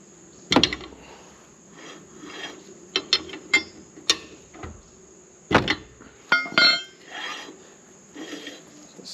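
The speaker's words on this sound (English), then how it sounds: "I'll tighten it till this doesn't really move that easily" Tightening a camper wheel bearing nut brings irregular metallic ratchet clicks and clanks, close and moderately loud, in short bursts separated by brief pauses.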